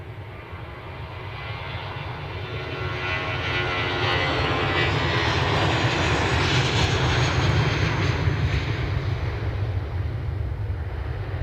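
A KLM airliner departs Edinburgh Airport with a steady engine roar that builds over the first few seconds and holds loud and broad, heard outdoors from a moderate distance with no talk.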